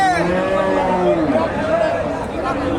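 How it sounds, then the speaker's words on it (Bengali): A Friesian cow at a rural cattle market gives a long, loud, close moo that wavers in pitch over faint crowd chatter. "এখানে একটা দেখেন ফ্রিজিয়ান গাভী সুন্দর একটা গাভী"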